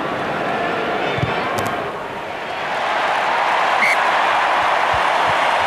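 A vast crowd of over 82,000 at a Wallabies versus All Blacks rugby test roars in a stadium after a successful Matthew Burke penalty kick, a broad sustained wash of cheering and applause that dips briefly then swells again.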